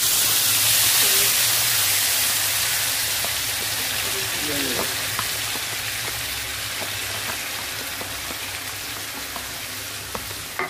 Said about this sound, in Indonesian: Kita tumis bumbu.